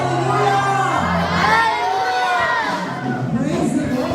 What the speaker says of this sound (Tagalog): Lahat na nagmamahal sa Panginoon, sumigaw!